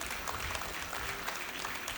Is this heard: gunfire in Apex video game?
no